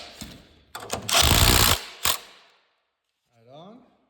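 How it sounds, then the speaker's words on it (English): A ratchet tightening a nut back down over washers, heard as bursts of rapid mechanical clicking and grinding up close, then a short pause and a faint squeaky whir at the end. "Put the nut back on. Tighten her up."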